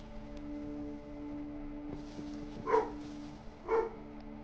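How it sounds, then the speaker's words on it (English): A forest spirit barks in the video game Death Howl, two distinct dog-like barks about a second apart, rising above a quiet droning musical background. "Forest spirit, no need to bark"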